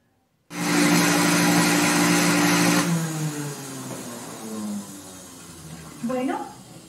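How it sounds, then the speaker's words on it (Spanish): Juice extractor whirring loudly as it presses beetroot, apple and grape, a steady motor drone that cuts off after a few seconds, followed by quieter rattling and a brief whine near the end. "ya pasamos por el extractor, la remolacha, la manzana"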